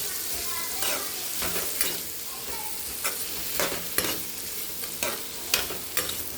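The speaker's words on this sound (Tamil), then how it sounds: "இப்போ கிளறி விட்டுக்கலாம்." Raw mango pieces fry and sizzle steadily in oil with mustard, garlic and chilli powder while a spoon stirs them, its scrapes and clinks recurring about every second at close range.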